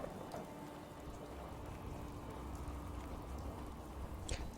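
Steady, soft rainfall in the rainy Boston wasteland of Fallout 4, a continuous hiss of drops with faint low rumble, no talking over it.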